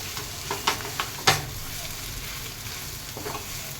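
Mashed boiled potatoes being stirred in a pan for Mumbai-style vada pav, a few soft scraping strokes and light sizzle in sparse bursts over a steady low hiss, close and fairly quiet.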